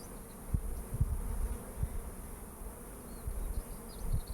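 Bees buzz inside an opened beehive during colony work, a steady low hum with a few louder thumps and bumps near the hive, no voices.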